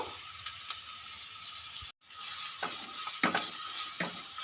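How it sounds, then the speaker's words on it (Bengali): Chopped onions frying in mustard oil in a kadai, a steady close sizzle with a brief break partway, then scraping stirs of a spatula over the crackling oil. "কড়াইতে বেশ কিছুটা সর্ষে তেল দিয়ে রেখেছি এবারে আমি দিয়ে দেবো কুচনো পেঁয়াজ পেঁয়াজটা আমি ব্রাউন করে"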